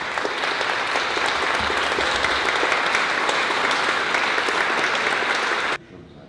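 Steady, dense applause from a sizable wedding crowd, loud and sustained, stopping abruptly near the end.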